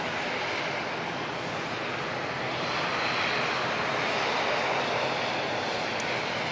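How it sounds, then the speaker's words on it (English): ATR turboprop airliner taxiing at Auckland Airport, a loud, steady roaring engine drone with a broad hiss that holds evenly throughout and swells slightly toward the end, heard outdoors from nearby. "This ATR to make a hasty taxi up here"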